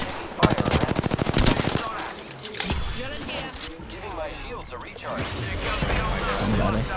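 Rapid machine gun bursts in a shooter video game, loud and close with fast rhythmic shots, followed by scattered game effects and impacts while a player talks over the action.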